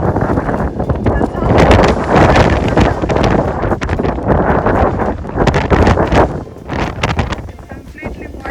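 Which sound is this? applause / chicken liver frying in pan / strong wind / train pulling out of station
strong wind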